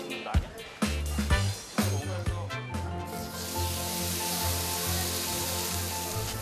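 Korean hanwoo beef grilling at a restaurant where customers cook meat they bought themselves, a steady close hiss of sizzling fat that swells and holds over background music.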